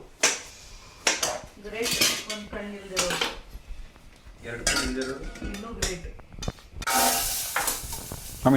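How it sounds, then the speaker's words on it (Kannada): Metal utensils clatter and scrape against a pan as vegetables are tossed into a hot tempering, with a sizzle and stirring, brief voices in between. "ಒಗ್ಗರಣೆ ಅಂದ್ರೆ ತರಕಾರಿ ಹಾಕ್ತಾ ಇದೀನಿ"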